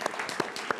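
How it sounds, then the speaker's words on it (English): Audience clapping for participating schools at a televised high school quiz championship finale, a short burst of steady moderately close applause from a small crowd. "Let's give them a round of applause for all of our schools this season."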